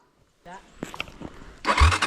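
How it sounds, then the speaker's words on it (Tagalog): A motorcycle engine that had failed to start cranks and catches, sputtering into a loud rumble near the end, with a brief voice beforehand. "ayaw mag-start yung motor ko."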